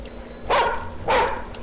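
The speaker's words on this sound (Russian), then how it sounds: "Собаку, успокойте" A dog gives two sharp, fairly close barks about half a second apart, with a quiet background between them.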